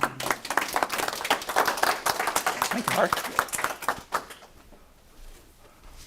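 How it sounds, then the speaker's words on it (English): A live audience at an evening discussion event gives a warm round of applause with mixed clapping, fairly loud and sustained for about four seconds under a brief spoken thanks, then fading to quiet. "So the real round of applause."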